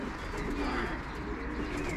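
Racing pigeons in a loft in Szczecin coo with soft, low, continuous calls that fill the background, fairly quiet and with no talk over them.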